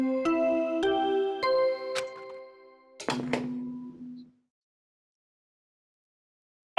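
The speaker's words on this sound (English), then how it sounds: "What you just heard was the body discovery announcement." Body discovery announcement chime from the Danganronpa video game, a bright ringing bell-like melody of several struck tones followed by a deeper resonant clang that fades out into silence.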